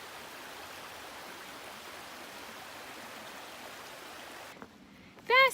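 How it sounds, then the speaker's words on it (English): A small river stream flows steadily along a hiking trail on Mt. Greylock, a broad even rush of water that fills the scene, then drops away near the end as brief whistled or chirping tones appear. "Gorgeous little river."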